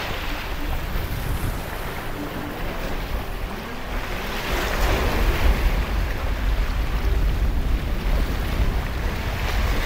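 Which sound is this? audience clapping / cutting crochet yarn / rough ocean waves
rough ocean waves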